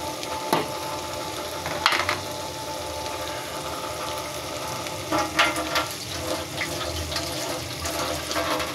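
Bottle gourd goes into a pan of fried shrimp and spices, giving a steady close sizzle with a few clatters and stirring knocks, without any voices.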